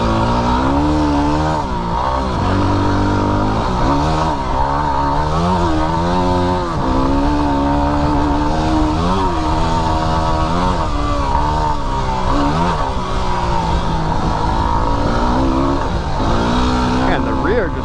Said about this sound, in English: pinned up that motorcycle coming towards me